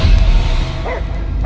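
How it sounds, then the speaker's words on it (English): A dog barks in a Guardians of the Galaxy game scene, the bark sitting in a dense, loud mix of rumbling sound effects and music. "I hear only barking"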